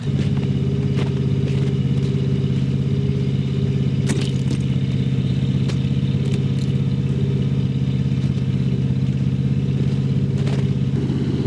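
An old car engine idles steadily after a cold start in sub-zero temperatures, with a rough, low drone, joined now and then by light clattering ticks, with no voices.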